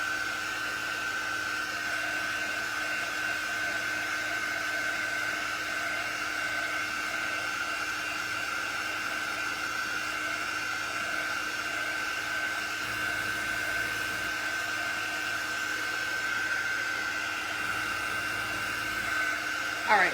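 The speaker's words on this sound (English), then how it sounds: "All right, so we're drying the letters here." A handheld dryer blows steadily on freshly made craft letters, a continuous close whirring hiss with a constant tone that runs unbroken for the whole stretch, with no speech over it.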